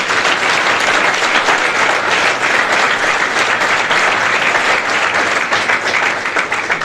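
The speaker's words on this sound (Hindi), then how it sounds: "भावना मैम के लिए एक बार जोरदार तालियां बजाई जाएं।" A large audience gives loud, sustained applause for a dedicated teacher at a student motivation event: dense, even clapping that stays strong from start to finish, with no talking.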